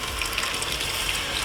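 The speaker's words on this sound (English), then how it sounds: "Now we are going to add in" Water from cooked black beans is poured steadily into a pot of Haitian cornmeal, a continuous close splashing gush throughout.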